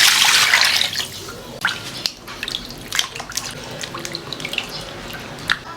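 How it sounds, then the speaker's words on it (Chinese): Tap water runs into a sink while one pound of pork belly and six chicken wings are rinsed, starting with a loud gush and settling into a steady splashing stream with small drips and clatters. "加水洗一下。"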